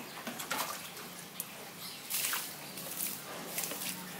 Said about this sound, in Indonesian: Nah, kita siram yang banyak pemirsa ya.